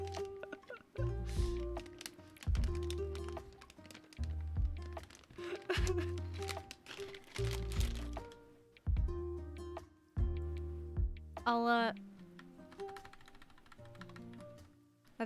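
Keystrokes on a newly built mechanical keyboard in a typing test, a steady run of clicky, fairly close taps in bursts over a low musical bed, with a brief pause near the end.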